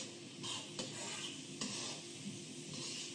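Onions frying in oil in a pan for lasagne, a dense continuous sizzle with occasional stirring scrapes and soft utensil knocks, close and steady.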